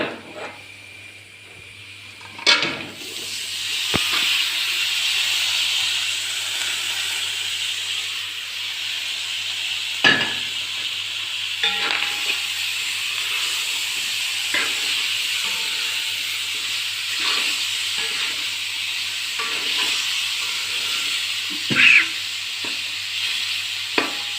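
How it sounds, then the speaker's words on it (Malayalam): Pork pieces sizzle and fry in a hot pan over spiced masala, a steady loud hiss continuing throughout, punctuated by sharp clacks and scrapes of stirring at intervals. "ഇനി ഇറച്ചി ഇട്ട് കൊടുക്കാം"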